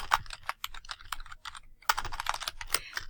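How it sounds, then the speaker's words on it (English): Subtitle text being typed on a computer keyboard for a presentation slide: quick, irregular keystrokes close by and fairly quiet, with no voices. "Then you'll click the subtitle and type Peppers"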